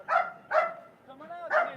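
A dog barks sharply at decoys during a Mondioring competition: three loud close barks with a short whine between them, with no one talking over them.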